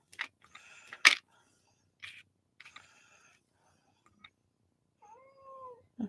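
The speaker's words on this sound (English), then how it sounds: "Yeah, Lucy, can you guys hear my kitty cat?" A cat meows several times with pauses between calls, close by, ending in a drawn-out mewing cry, with faint clicks in the quiet gaps.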